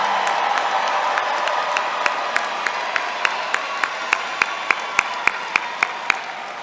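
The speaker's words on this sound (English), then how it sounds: "Please honor them now by giving them that extraordinary, enthusiastic round of Aggie applause." A commencement audience at North Carolina A&T State University applauds for the fall 2022 undergraduates, a steady, distant wash of clapping and crowd noise with a few sharp, regular claps standing out near the microphone.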